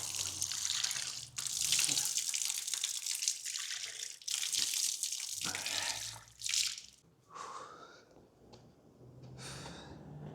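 Water gushes from a tap in bursts as things are washed, a loud splashing hiss that cuts off and resumes several times, with drips and handling noises in the pauses.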